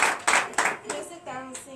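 A church congregation at a night deliverance and prophecy service claps in praise of Jesus, a few sharp, rhythmic clap bursts close by, with voices talking between them.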